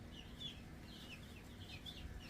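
Soft cheeping of Delaware chicks, white dual-purpose birds with a little black, kept in a warm garage brooder. Repeated faint peeps drift over a steady low hum for the whole stretch, with no talking.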